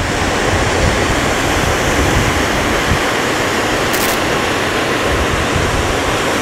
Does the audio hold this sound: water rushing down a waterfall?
yes